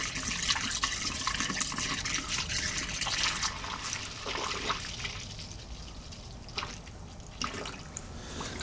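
Coolant pours through a funnel into a car engine during head gasket repair, a steady trickling, gurgling liquid flow heard up close throughout with no talk.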